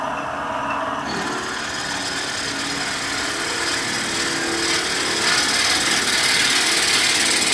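A steady, loud grinding whir of a drill boring slowly into deer antler on a spinning lathe, continuous throughout with slight shifts in tone.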